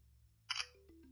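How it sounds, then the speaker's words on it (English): The Oppo A74 5G front-facing camera fires its shutter for a selfie: one quick, crisp synthetic click, followed by a few soft descending electronic tones against a quiet background hum. "Front-facing camera, shutter's nice and quick as well."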